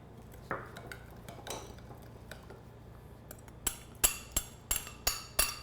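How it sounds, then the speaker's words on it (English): A salad dressing of ginger, garlic and lemon juice is whisked in a bowl, giving light clinks and scrapes of the whisk, faint at first and then a run of sharper, evenly spaced taps near the end. "you're just whisking this together"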